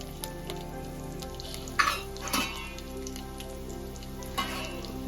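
Garlic fries in hot oil for gongura pachadi, giving a steady close sizzle with a few brief stirring clatters of a spoon against the pan.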